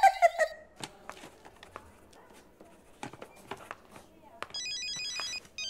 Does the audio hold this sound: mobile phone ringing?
yes